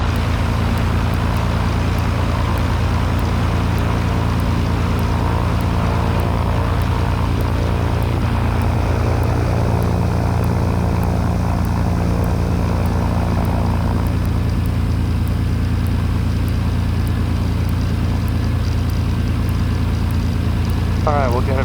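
A steady low engine drone from an Aerostar twin-engine airplane sits throughout while the aircraft waits on the runway before takeoff, with radio talk over it.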